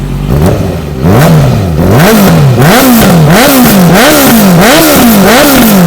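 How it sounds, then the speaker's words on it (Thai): A 2016 Honda CBR650F with an aftermarket Akrapovic-style full-system exhaust revs hard again and again, its loud, close engine note climbing and dropping in a steady sawtooth rhythm with no talking. "นี่ครับท่อแต่งนะครับทรงอาคาโปวิกนะครับอันนี้เป็นท่อก๊อฟนะครับแต่ว่าเป็นท่อ แบบฟูลซิสเต็มเลยนะครับ มาฟังเสียงกันครับ"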